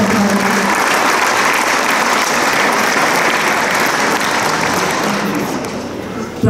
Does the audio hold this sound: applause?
yes